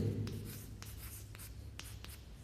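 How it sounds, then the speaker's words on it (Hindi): Chalk writes on a blackboard during a Hindi trigonometry lesson, a faint run of short scratchy strokes in a quiet room with no talking. "यहाँ पे लिख देते हैं साइन ए"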